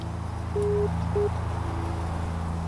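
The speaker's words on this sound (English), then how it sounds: "this Vortac that's currently beeping Morse code at us" A VORTAC navigation beacon in the X-Plane 10 flight simulator sends Morse code as short and long steady tones, a dash then a dot, over a constant engine drone inside the cockpit of a Cessna Skymaster.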